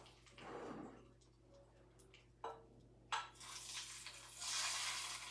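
Faint crackling and hissing of hot brown butter sizzling as it is poured over tomatoes, with a few soft clicks and utensil taps, swelling louder toward the end.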